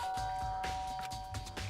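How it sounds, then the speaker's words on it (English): A doorbell chime rings in the Danganronpa video game, a steady tone held over soft game music, with no talking. "I press the doorbell."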